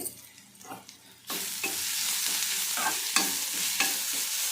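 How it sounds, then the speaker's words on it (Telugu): Carrot with turmeric and salt tipped into a pan of hot tempering spices, a quiet stir with scraping, then a sudden steady sizzle and frying hiss with occasional utensil scrapes. "పోపులు అయిపోయినాయి కదా క్యారెట్ వేసేసుకుందాం ఇందులోనే తగినంత పసుపు అలాగే కొద్దిగా సాల్ట్ వేసేస్తాను"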